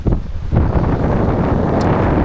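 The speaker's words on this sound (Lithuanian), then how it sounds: "Lemba čia vėjas didelis, įdomu kaip išsirašė garsas, nes iš tikrųjų tai nemaža." Strong wind buffets an outdoor microphone in Sicily, a loud, continuous low roar that swells sharply after a brief dip and keeps rumbling steadily with no one speaking.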